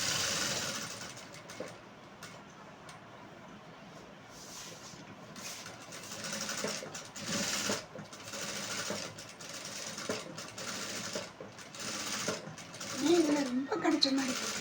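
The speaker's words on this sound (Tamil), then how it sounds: "இதில் சுற்றி வர கூட ஒரு தையலை போட்டுருங்க." A sewing machine runs steadily while stitching around a blouse patti piece, a close mechanical whirring with ratcheting clicks and brief pauses, a voice talking over it toward the end.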